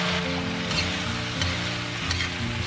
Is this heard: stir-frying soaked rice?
yes